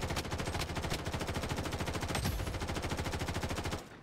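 Rapid, sustained automatic gunfire from an M4A1 rifle in the video game Blood Strike, in a fast even rhythm, loud and continuous before cutting off near the end.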